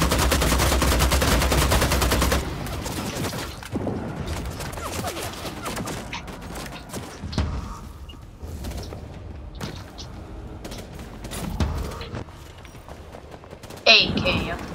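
Gunfire from an AK rifle in a vampire battle royale video game, heard as rapid bursts of shots and scattered reports under a player's talk.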